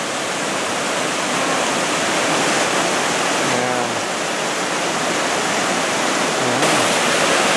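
Loud, steady roar of rushing water from Cataract Falls near Fairfax, California, a constant dense wash of noise with no voices.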